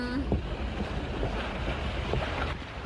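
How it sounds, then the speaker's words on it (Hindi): A cartoon sailing ship moves slowly across the sea, heard as a steady wash of water and wind noise with a few faint creaks and thumps, moderately loud and unbroken. "ये जहाज कितनी धीरे चल रहा है।"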